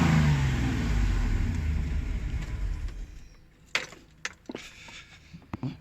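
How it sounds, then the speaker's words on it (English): A classic Range Rover's engine roars loudly at first, then winds down and falls quiet, leaving a few sharp clicks and knocks nearby. "I'll give it a rev if you know it."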